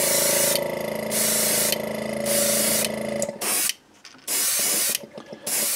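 An airbrush sprays pearlized copper Createx paint onto a rainbow trout fishing lure, first in a long continuous hiss, then in several short close bursts with brief pauses.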